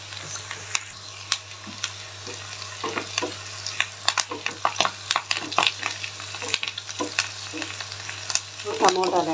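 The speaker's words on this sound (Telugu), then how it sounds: "ఇప్పుడు కరివేపాకు వేస్తాం." Curry leaves crackle and sizzle in hot oil in a frying pan for dal khichdi, a dense close spatter of pops and hisses, with stirring scrapes.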